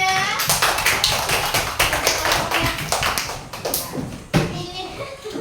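Children in a classroom clap together for a classmate. A quick, fairly loud patter of hands runs for several seconds, with a sharper burst near the end and children's voices mixed in.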